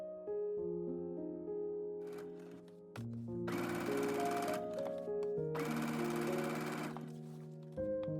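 A sewing machine stitches a seam joining a skirt to its lining, running in two loud, rapid, buzzing bursts separated by short pauses, close and steady, over background music with no speech.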